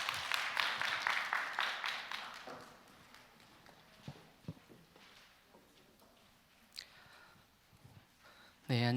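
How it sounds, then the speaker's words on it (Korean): An audience at a Kingdom Education seminar gives a dense burst of clapping to welcome a speaker. It fades out within a few seconds and is followed by scattered faint knocks and a brief loud noise at the end. "박수로 환영해 주세요."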